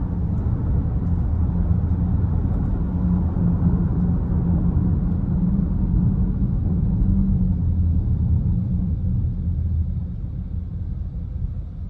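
Cabin of a 2021 GMC Acadia Denali FWD rolling on the road, a steady low rumble of tires and engine that eases slightly as the vehicle slows toward a stop.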